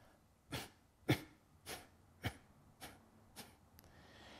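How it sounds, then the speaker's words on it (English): Seven sharp, forceful exhalations through the nose during Kapalabhati yoga breathing, in an even rhythm, about one every half second, close and breathy with quiet pauses between. "This is the way the Kapalabhati breath works."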